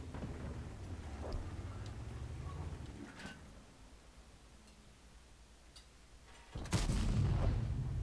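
A gun in a video game fires a few heavy booming shots: a faint one early, then a loud, low blast near the end with a rumbling tail.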